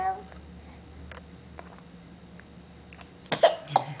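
A child coughs twice in quick succession near the end, loud and close after a quiet stretch of low room hum with faint scattered sounds.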